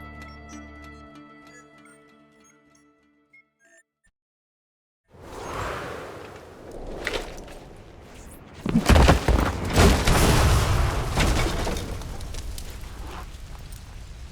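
Explosions go off in the video game Assassin's Creed Brotherhood. A short stretch of music drops into near silence, then loud booming blasts and crackling rumble follow in several bursts.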